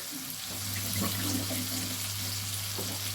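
An egg and paneer mixture fries in a pan while being stirred, giving a steady hiss with soft scraping over a constant low hum and no talking.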